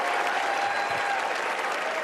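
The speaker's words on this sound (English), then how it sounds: "An adoring crowd celebrated." An adoring crowd applauds and cheers a coach's record 1,203rd victory after Stanford beats Oregon State, steady dense clapping filling the arena without a break.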